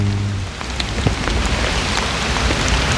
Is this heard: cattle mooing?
no